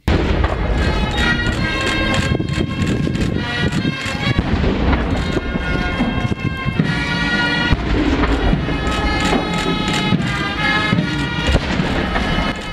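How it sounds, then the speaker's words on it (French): Loud, continuous booming blasts of a 21-gun cannon salute at a funeral roll over one another with hardly a pause, echoing outdoors. "tandis que 21 coups de canon ont été tirés"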